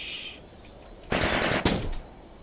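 Automatic gunfire in the tactical game Jagged Alliance: Back in Action, a loud rapid burst of shots lasting under a second after a quieter lead-in, then a fading tail.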